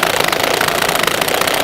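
A DeWalt cordless drill straining under heavy load in a durability test with a failing clutch, a loud dense continuous grinding whir held close throughout, with no talking.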